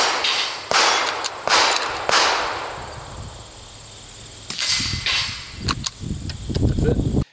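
Several sharp, quiet cracks from a .22 rimfire rifle with a Bowers USS22 silencer and CCI Quiet ammunition, with a metallic ping after some of them and a voice talking in between.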